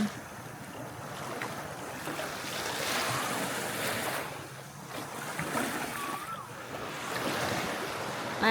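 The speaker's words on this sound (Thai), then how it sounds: "อิงมานั่งฟังเสียงคลื่นเนี่ย อยากให้ฟังเสียง" Sea waves roll and break on the shore of Ko Tiap island in Chumphon, Thailand, just before sunrise, a steady close surf wash with wind buffeting the microphone and no voices.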